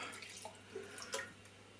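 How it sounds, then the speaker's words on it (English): Water sluicing around and out of a tasting glass, quiet splashes and a few drips, close and faint, with no talk. "I'm going to sluice it out again with a bit of water"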